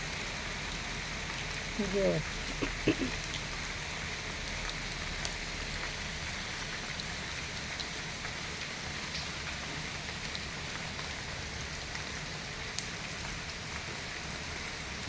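Steady first monsoon rain pours down outdoors among trees, a continuous even hiss throughout, with a brief voice speaking near the start.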